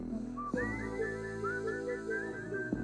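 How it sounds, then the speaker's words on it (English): A whistled melody in a song, with a clear sliding whistle line that rises and bends over sustained instrumental backing and runs for a couple of seconds. "we have our whistle melody here"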